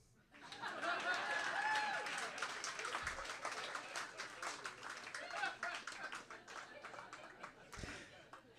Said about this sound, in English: Yay, that's where you clap.